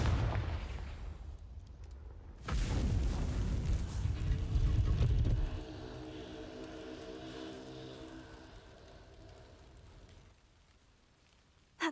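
A Confringo fire spell blasts in the Hogwarts Legacy game: a sudden loud explosive burst with a heavy rumbling boom that swells for a few seconds, then fades into a lingering ringing tail and quiet.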